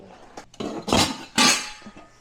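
Cooking pots being moved and set on a stove to heat, giving a few close metallic clanks and scrapes in quick succession.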